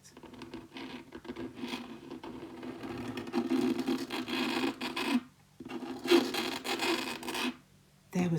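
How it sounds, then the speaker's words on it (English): A scratching, scraping sound as if from under a floor: sustained rough rubbing and rasping that swells and drops, with brief pauses between bursts, close and moderately loud with no talk. "There was a scratching, scraping sound."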